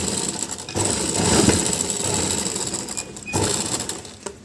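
An electric sewing machine stitches a blouse seam, a loud close whirring run of needle strokes that pauses briefly and then starts again, with no speech.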